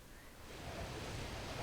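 A boat skims across ocean waves in a video game, a faint, steady rushing wash of water and wind that builds slightly and continues without any voices.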